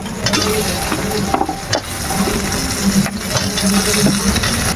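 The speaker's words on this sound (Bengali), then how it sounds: "কেটে ধুয়ে রাখা আলুগুলো দিয়ে দেবো।" Washed, cut potatoes tumble into a hot pan of spiced tomato masala at a village picnic, setting off a loud, steady sizzle and frying crackle with some stirring scrapes throughout.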